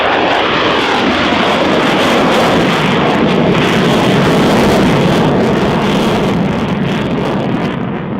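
An upgraded two-seat Flanker fighter jet roars past at the RIAT 2018 airshow, a loud, steady, broadband engine rumble and hiss with wind buffeting filling the whole stretch.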